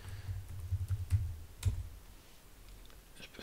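Keyboard keys clicking in short irregular bursts while a computer user types, fairly close and quiet, with no voices.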